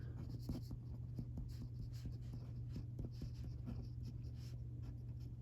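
A pen or marker scratches steadily across a surface, writing out a line of math in quick continuous strokes over a low background hum, with no talk.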